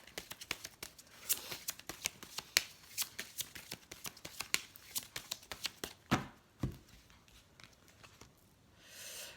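Oracle cards being shuffled by hand, a rapid run of crisp riffling flicks and soft slaps close to the microphone, fairly quiet, with a few louder snaps near the end and no speech.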